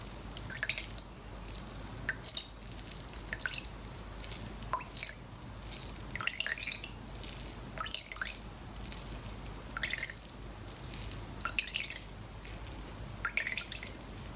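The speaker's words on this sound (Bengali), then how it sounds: "চুনা থেকে সব পানি বার করে লিছি" Soft, scattered drips of water squeezed from tuna fall at irregular intervals, quiet and close, over a faint low background hum.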